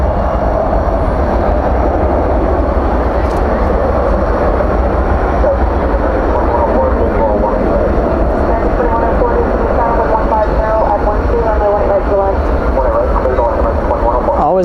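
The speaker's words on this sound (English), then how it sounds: "The next departure sounds like it's beginning its roll there on 1A left." A jet airliner begins its takeoff roll on a runway at DFW airport at night, a broad, steady engine roar and rumble heard from a distance, with a voice talking over it.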